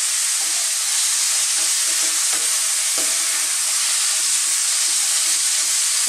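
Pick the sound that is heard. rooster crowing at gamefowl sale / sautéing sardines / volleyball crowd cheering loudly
sautéing sardines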